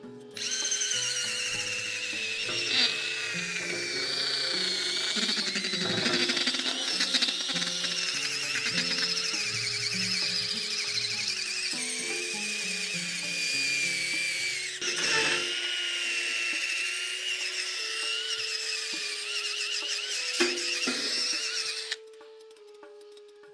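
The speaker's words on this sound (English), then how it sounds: "This is a nylon brush attached to this cordless drill." A cordless drill whirs steadily with a nylon brush spinning against a griddle surface, the pitch wavering as pressure changes, running continuously for a long stretch before stopping.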